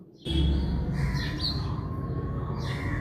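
Birds chirp and tweet in the morning, fairly close, with several bright calls standing out over a steady outdoor background.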